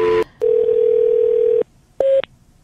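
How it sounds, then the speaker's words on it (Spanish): A telephone ring-back tone on a call: one long steady beep of about a second after a short blip, then a brief shorter tone, loud and clean with no talking. "ahora él está dejando mensaje a Sony en el teléfono"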